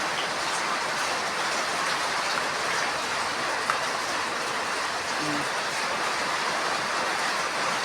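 Steady, dense rain hissing evenly throughout, close and continuous, with no clear voices over it.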